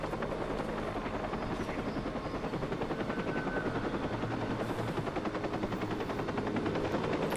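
A helicopter in the Watch Dogs video game hovers with a constant, fast rotor chop, fairly faint and steady, with scattered gunfire-like bursts.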